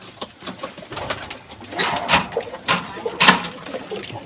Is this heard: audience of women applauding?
no